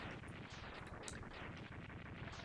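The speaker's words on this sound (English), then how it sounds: "we just stand in the explosion because we're that cool" An explosion from the Mega Man X3 video game rumbles in a continuous, dense burst of crackling blasts, thick and sustained without pause, with no voices.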